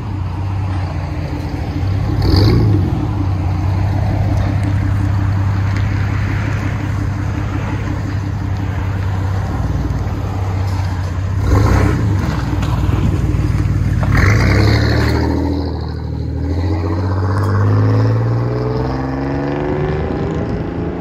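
A GMC Sierra 1500 truck with a Flowmaster Outlaw exhaust and side pipe idles with a deep, loud burble and blips its throttle several times in sharp rising revs, close by, with no talking.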